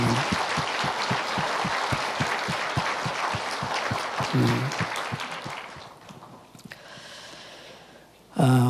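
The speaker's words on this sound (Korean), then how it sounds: "그런 마음 담아서 하나님께 박수로 영광 한번 돌립니다." A church congregation claps in a dense, steady burst for several seconds to give glory to God, then tapers off into quiet room murmur.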